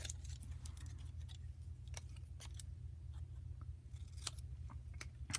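Metal snips cutting paper for a handmade card, a string of soft, crisp snips and clicks at an uneven pace, close and faint over a low background hum.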